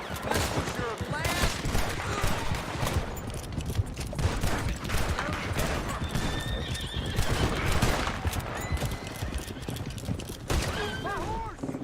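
In Red Dead Redemption 2, a horse whinnies and neighs repeatedly over clattering hooves amid a busy gunfight, with shots and mechanical noise layered throughout and voices calling out now and then.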